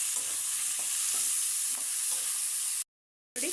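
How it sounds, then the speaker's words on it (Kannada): Tomato and grated coconut fry in a pan for a chicken curry, making a steady sizzle, and a spoon scrapes and stirs in a few soft strokes before a brief drop to silence. "ಇವಾಗ ಇದನ್ನು ಚೆನ್ನಾಗಿ ಫ್ರೈ ಮಾಡ್ಕೊಳ್ಬೇಕು."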